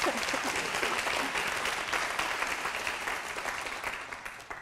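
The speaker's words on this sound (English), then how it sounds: "You can clap for that." An audience claps steadily, a dense wash of many hands that stays loud throughout and tapers slightly near the end.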